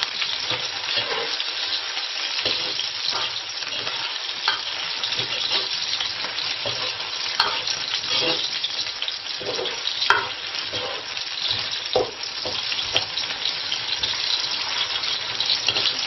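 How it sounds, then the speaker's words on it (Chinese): Spices are stir-fried for beef offal soup, sizzling and crackling steadily in a hot pan, with occasional scraping stirs, close and continuous, without voices. "我们这香料基本上就炒好了"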